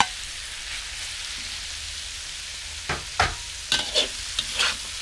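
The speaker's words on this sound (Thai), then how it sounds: "ผัดให้หมูสุกครับ" Thinly sliced wild boar pork and mushrooms in a spicy stir-fry sizzle steadily in a hot pan. Several quick scraping stirs punctuate the sizzle in the second half.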